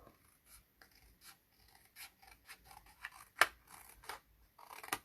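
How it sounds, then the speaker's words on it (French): Scissors snip through paper while scraps are cut away for a paper-craft embellishment, with a run of quiet, uneven cuts building to two sharp, louder snips near the end, close and with no voices. "Et ensuite on vient couper l'autre morceau."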